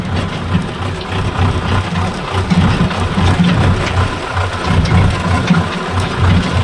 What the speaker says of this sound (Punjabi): ਆਪਾਂ ਟਰੈਕਟਰ ਟਰਾਲੀ ਲੈ ਕੇ ਤੁਰ ਪਏ ਪੱਠਿਆਂ ਨੂੰ